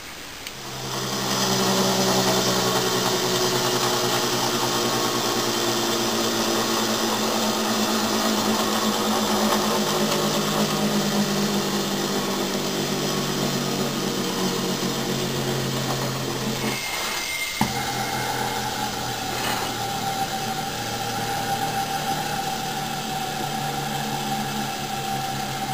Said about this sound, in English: I like to run my gyroscopes at high speed, so what we got here is my Craftsman die grinder